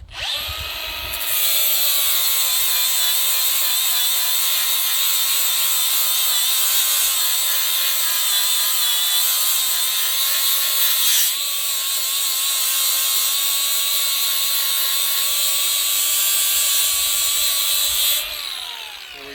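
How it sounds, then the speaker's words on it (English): A Low Key Off-road Karnage welder welding through dirt and rust, a loud, steady buzzing hiss with a high whine that starts abruptly, holds nearly unbroken for about seventeen seconds, then stops, with no talking. "how's this thing gonna weld through dirt and rust"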